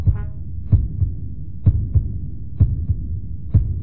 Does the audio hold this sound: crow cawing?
no